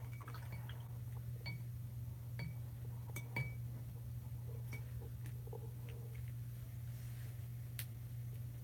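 A paintbrush is swished and rinsed in a glass jar of water, giving scattered light clinks and soft watery drips over a steady low background hum.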